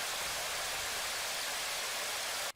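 Synthesized rain built from hard-clipped noise makes a steady, even hiss of dense crackle, soft and unbroken for a couple of seconds, alone with no other sounds.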